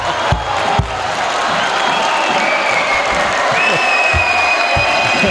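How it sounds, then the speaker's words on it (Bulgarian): Audience applause and cheering fill a basketball arena after a three-pointer in a women's game in Montana, a steady dense clapping wash with a few whoops and whistles over it. "ще изчакам аплодисментите на публиката"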